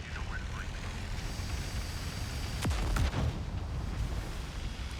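Distant explosions and gunfire rumble in the soundscape of the Dreamcast game Project CW: XM-1 during a bomb-planting mission, with a couple of sharp booms and whooshing sweeps mid-clip over a steady noisy background.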